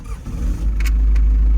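A restored Toyota Land Cruiser FJ60 with a Cummins diesel swap pulls away, its deep engine rumble swelling loud and close, with a couple of faint clicks over the top.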